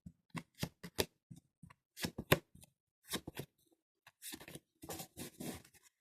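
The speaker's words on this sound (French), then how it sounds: "j'étale les cartes et je vais en tirer 5" Tarot cards are spread across a table in a quick run of soft, close slaps and papery swishes, sparse at first and then denser into brief rustling sweeps, faint overall.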